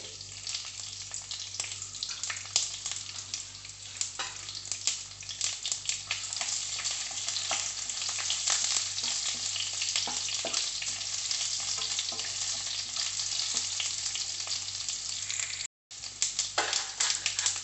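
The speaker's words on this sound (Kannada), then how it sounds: "ಆಯಿಲ್ ಬೆಚ್ಚನಗ ಚೂರು ಸಾಸಿವೆ ಪಾಡ್ಗ ಇವಾಗ ಕರಿಬೇವು, ಅರ್ಧ ಈರುಳ್ಳಿ" Mustard seeds, curry leaves and onion frying in hot oil, a continuous close sizzle with faint popping and stirring, briefly cutting out near the end, with no talking.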